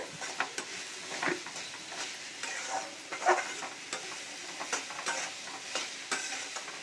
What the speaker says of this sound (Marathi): आता मी ढवळून घेतलं आहे